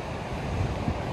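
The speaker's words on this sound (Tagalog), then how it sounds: "Kasi talagang lumakas yung hangin." Strong wind gusting across an island beach campsite, a steady broadband roar with faint surf mixed in and no voices.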